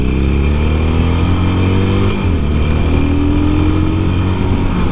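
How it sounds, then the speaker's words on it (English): Harley Davidson motorcycle engine revved with a first twist of the throttle, a loud, steady low rumble with harmonic layers that dips briefly near the midpoint and then climbs again, heard close up with no talk. "first crank of the throttle"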